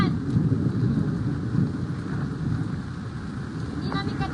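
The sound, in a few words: rain with thunder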